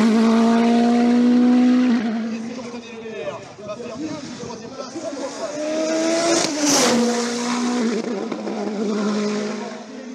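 A Norma M20 FC race car with a 1.7 litre turbo engine climbs a hill-climb course, its loud engine note holding steady, dipping and rising again through gear changes, with a brief sharp burst near the middle.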